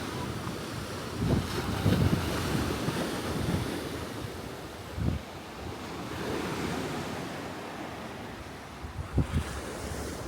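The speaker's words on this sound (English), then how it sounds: "Lovely refreshing breeze, as you can probably hear." Steady sea breeze buffets the microphone while waves wash onto the shore of Ventnor beach, Isle of Wight, in the evening, with occasional louder gusts and thuds, and no one speaking.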